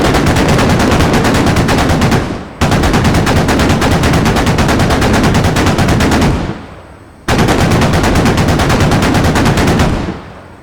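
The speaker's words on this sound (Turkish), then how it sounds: "Patlayıcı sıkıyorum lastik." Machine-gun fire in the video game Squad: three long, loud, continuous bursts of rapid gunfire, each lasting a few seconds with brief pauses between them, close and dominant with no talk.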